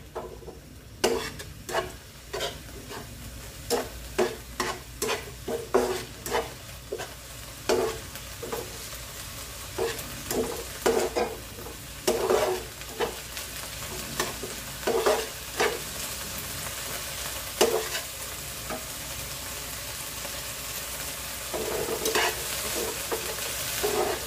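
Cabbage cooks in a pan with only its leftover washing water, a steady low sizzle broken by repeated scraping stirs and knocks of a spatula in an irregular rhythm.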